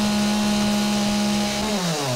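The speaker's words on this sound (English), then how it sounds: "Chainsaw." A chainsaw in 7 Days to Die runs loud and close with a steady buzzing whine, then its pitch drops as it winds down near the end.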